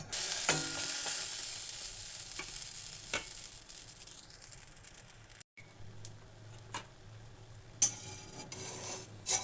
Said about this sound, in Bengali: এটা একটা দিকে ফ্রাই হতেই আমি এটাকে উল্টিয়ে দিচ্ছি